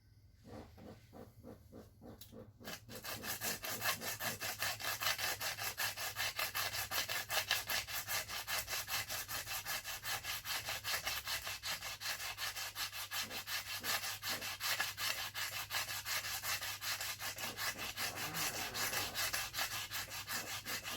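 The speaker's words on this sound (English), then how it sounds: "New bit of sandpaper." Sandpaper is rubbed back and forth over wood while making a stutt bar, a fast steady scratchy rasp that starts after a few quieter strokes and continues evenly, close up with no talk.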